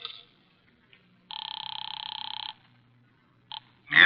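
A telephone rings in a radio drama, one long electronic trill followed by a short second burst in a quiet room, with a faint rustle at the end.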